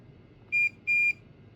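Multimeter continuity tester beeps twice, two short, clean, high-pitched tones about a third of a second apart, loud and close in an otherwise quiet room.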